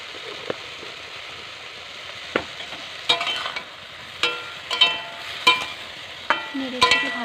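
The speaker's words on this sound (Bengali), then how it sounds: "নেড়ে চেড়ে ভালো করে একটু হালকা ভাজাভাজি করে নিতে হবে" Potatoes, onions and green chillies fry and get stirred in a pan with a little turmeric, producing a steady faint sizzle broken by sharp, irregular scraping stirs that grow busier toward the end, close by.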